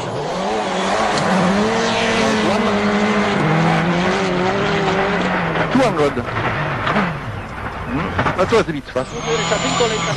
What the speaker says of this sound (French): Daniel Carlson roule sur une Citroën Xara de l'équipe Chronos